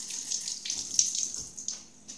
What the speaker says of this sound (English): Maybe rinse it off if it looks iffy